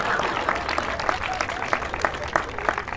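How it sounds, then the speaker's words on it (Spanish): An audience at a comedy show claps in a brief, steady burst of applause with a few distinct sharp claps standing out. "Un aplauso."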